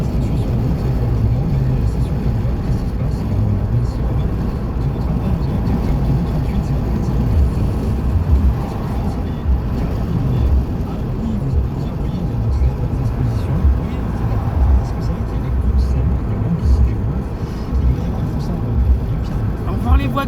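A car driving on a motorway, heard from inside the cabin as a steady, loud low road and engine rumble that continues throughout while people talk over it.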